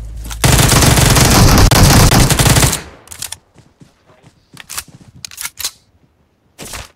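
Gunfire in PUBG Mobile at Georgopool: a loud, sustained automatic burst lasting about two seconds, followed by a string of separate, quieter single shots at uneven intervals.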